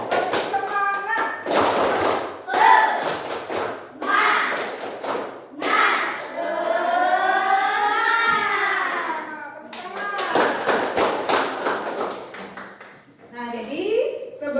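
A class of children doing a rhythmic 'tepuk semangat' clapping routine led by a teacher, with bursts of patterned claps and taps alternating with children's chanting and talk, close and lively.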